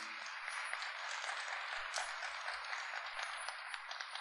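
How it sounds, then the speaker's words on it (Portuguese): Church congregation applauding during a Sunday homily, a steady, soft wash of many hands clapping at a distance, continuous throughout with no voices over it. "Pode dar uma salva de palmas para o pai e a mãe que dá colo para os filhos."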